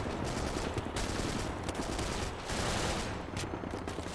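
Sustained automatic fire from a tank's coaxial machine gun in a Desert Storm first-person tank warfare game mod, a dense, loud, continuous rattle of rapid shots with brief dips in intensity throughout.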